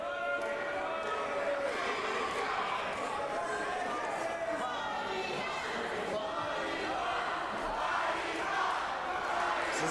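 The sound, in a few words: wrestling crowd at Goodwood Community Centre reacting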